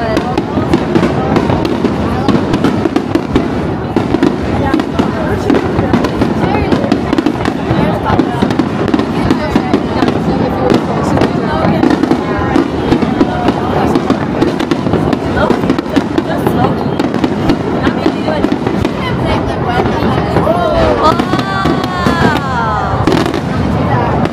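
Fireworks display over the Sumida River in Japan, a dense, continuous stream of bursts and crackles lasting throughout, with people talking and exclaiming in the crowd.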